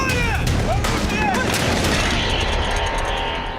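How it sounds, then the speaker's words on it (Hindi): Cannon fire of a 21-gun salute in Havana, Cuba, greeting the arriving Russian warships Admiral Gorshkov and Kazan: loud, heavy booming blasts that roll into a long rumbling echo and fill the whole stretch. "क्यूबा में 21 तोपों की सलामी तक दी गई।"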